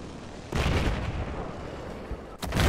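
Sniper gunfire in a shooting video game, two loud booming shots about two seconds apart, the first followed by a long rumbling tail.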